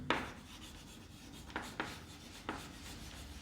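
Marker or chalk strokes on a board in a chemistry classroom, four short scratchy strokes spaced irregularly over a quiet room hiss, faint and close.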